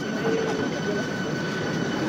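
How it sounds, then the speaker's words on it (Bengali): A Ranaghat–Sealdah AC EMU local train pulls into the platform from the car shed, a loud continuous rumble of wheels and motors with a faint tonal whine above it. "আপাতত কারশেড থেকে ঢুকে যাচ্ছে আমাদের first EMU AC Ranaghat two Sealdah."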